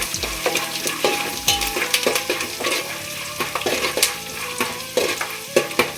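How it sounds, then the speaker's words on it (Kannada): Roasted gram and curry leaves fry in hot oil in a pan over a medium flame for a spicy avalakki snack, with a steady close sizzle broken by repeated scraping stirs and light clinks of the spoon against the pan, and no talking. "ಹುರ್ಗಡ್ಲೆ ಮತ್ತು ಕರಿಬೇವು ಹಾಕಿ ಚೆನ್ನಾಗಿ ಕೆಂಪಾಗುತ್ತನ ಬಾಡಿಸ್ಕೊತೀವನ್ನ"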